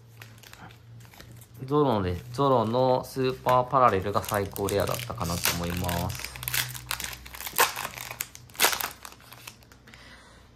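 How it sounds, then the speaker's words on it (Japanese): A foil booster pack of the One Piece card game set Twin Champions (双璧の覇者) is torn open and cards are shuffled, with crinkling and rustling bursts close by under someone talking. "ちょっとまずはじゃあ双璧の覇者から開封していきます"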